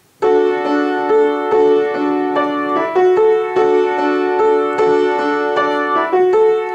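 A right-hand piano riff, the verse backing of a song, repeats a short pattern of bright notes in steady rhythm, loud and clear with no voices.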